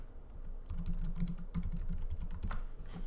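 Keys clatter steadily as an email address is typed on a computer keyboard, a close, continuous run of quick taps with a slight pause midway.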